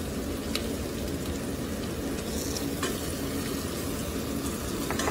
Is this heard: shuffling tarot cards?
no